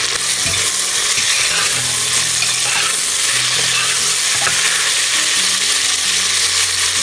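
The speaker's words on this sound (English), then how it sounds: "Now oil is heated. Let's add onions. Let's fry them." Onions sizzle loudly in hot oil with a dense, constant crackle and frequent stirring scrapes, close up and with no voices.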